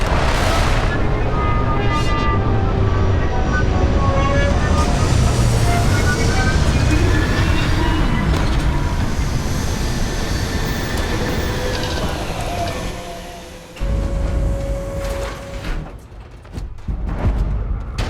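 Aircraft setting down in a video game: a loud, rumbling roar with sweeping engine tones that fades toward the end, followed by scattered clanks and thuds, with speech at times.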